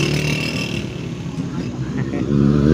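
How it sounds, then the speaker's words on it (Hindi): Motorbike climbing uphill toward Marghuzar valley, its engine droning and straining steadily at close range while people talk over it. "ये बाइक को ऊपर जा रहे हैं"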